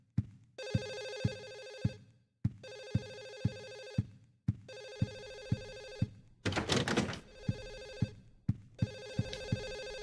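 Telephone ringing in the video game Silent Hill 4, a repeated warbling ring over regular heavy thumps like footsteps, with one noisy rushing burst midway, loud and close.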